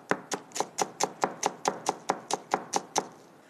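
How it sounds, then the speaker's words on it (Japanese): Vegetables being finely chopped with a knife on a board while preparing dumpling filling, about fourteen crisp, evenly spaced knocks in a quick steady rhythm, close and clear with no talk. "野菜を洗ってこんな風に細かく切ります"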